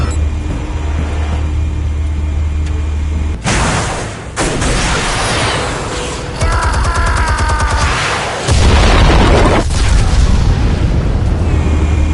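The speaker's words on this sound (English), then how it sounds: "Explosives armed. Fire when ready." Explosives detonating in Batman: The Telltale Series, a run of loud, booming blasts with rumbling tails, several bursts stacking over about twelve seconds with no talking.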